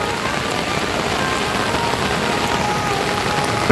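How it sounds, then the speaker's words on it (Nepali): Steady rain pours onto the Miteri bridge in Dharan, where a roof is being fitted. It makes a dense, even hiss that holds at the same level throughout, with no voices. "पानी परिरहेको अवस्था भने हल्का घाम पनि लागिरहेछ।"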